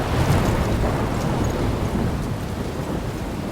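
A thunderstorm in the video game Life is Strange Remastered, a steady, loud roar of rain and rumbling thunder that fills the whole clip without pause, with no voices over it.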